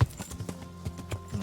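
Horse hooves clip-clop in the Kingdom Come: Deliverance video game, a steady rhythmic series of about six muffled thuds heard close, without speech.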